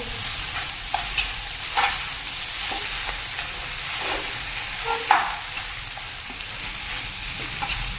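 Chicken noodles with omelette pieces, cabbage and spring onion being stir-fried in a pan, a steady close sizzle broken by repeated scraping and clinking stirring strokes throughout, no talking.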